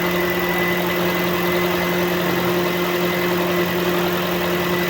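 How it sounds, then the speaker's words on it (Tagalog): A Toyota engine idles smoothly and steadily without vibration, with its radiator cooling fan whirring constantly over the low hum; no voices, no change in pitch. "Tahimik yung makina, walang vibration. Gumagana na yung fan."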